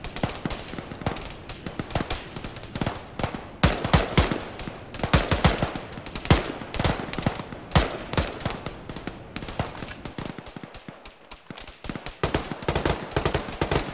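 Dense, sustained gunfire in the ShackTac military video game, with many sharp close-range shots and rapid bursts that rise and fall continuously, with no one talking.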